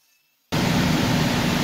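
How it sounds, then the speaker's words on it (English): Table saw running steadily through a wood board while making 45-degree mitered edge cuts, a loud broadband whine and rasp starting abruptly after a half-second of near silence and holding constant to the end. "I'm going to cut my 45 degree mitered edges on the table saw the whole way down the length of the board"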